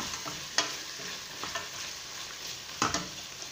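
Masala stirred in a frying pan for Arabian kabsa, with spoon scrapes and soft sizzling over a steady low hiss. The sharpest strokes land near the start and again near the end.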